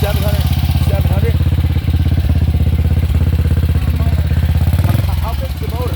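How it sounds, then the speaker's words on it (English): Single-cylinder 500 cc thumper motorcycle from a British bike meet, idling loud and close with an even, throaty exhaust pulse that dips briefly near the end. "That exhaust sounds amazing."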